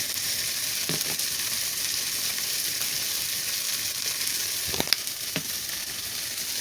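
Chicken breast seasoned with Italian seasoning fries in a pan with a steady, dense sizzle, broken by a few faint clicks and taps and no talk.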